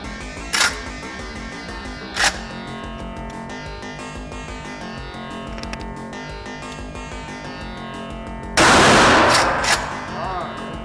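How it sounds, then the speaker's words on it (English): An H&R Pardner pump shotgun is loaded with shells amid light mechanical clicks, punctuated by two sharp reports early on and a heavier, louder blast near the end. "let's load up some more shells and see if I can do a little better"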